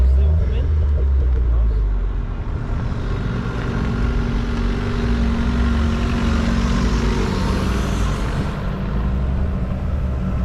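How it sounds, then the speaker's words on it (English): Cars roll into a big countryside car meet at sunset, with a steady, close engine rumble that holds throughout and swells slightly as the vehicles pass. "Nice little bit of sunset outside these cars as they all come in."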